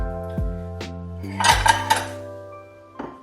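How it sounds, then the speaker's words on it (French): Plates and dishes are set down and stacked into kitchen cabinets by hand after drying, giving a few sharp ceramic clinks and knocks with a brief cluster of clattering in the middle, close and fairly clear. "Je vais les essuyer et puis les ranger dans les placards."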